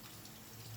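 Hands rinsed under running water at a sink, a faint steady hiss of flowing water lasting under a second.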